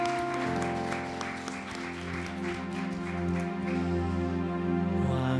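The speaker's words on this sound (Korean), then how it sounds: "우리 큰 영광의 박수 올려드리면서" A church congregation applauds at a Friday worship and prayer service, a steady wash of clapping blended with sustained band or keyboard music throughout.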